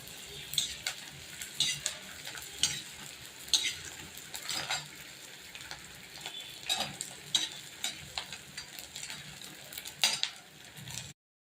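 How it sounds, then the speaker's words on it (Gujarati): Edible gum (gond) frying in ghee for a winter sweet, a soft continuous sizzle with occasional spoon stirs and scrapes against the pan, fairly quiet and without voices. "ગુંદર બધો તળી લઈએ આપણે પહેલાં"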